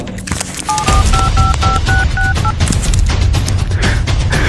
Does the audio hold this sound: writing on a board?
no